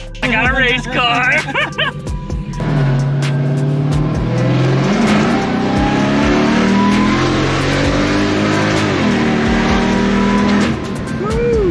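A 2006 Cadillac accelerating hard after a differential bushing repair, a loud sustained engine roar rising in pitch with a gear change, while an excited voice shouts over it near the start.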